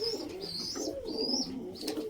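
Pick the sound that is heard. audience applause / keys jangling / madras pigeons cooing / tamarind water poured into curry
madras pigeons cooing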